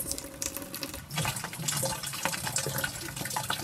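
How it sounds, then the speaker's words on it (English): Water from a slow gravity-fed tap trickles and splashes softly and continuously, close by, growing a little fuller partway through. "Getting some water, it's a gravity flow, so it's a little slow, but all good."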